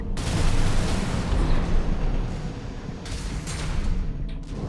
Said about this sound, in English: A lot of the explosions are just very bassy.